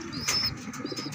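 Racing pigeon arriving home to its loft, a brief soft coo with faint high chirps nearby, quiet and close.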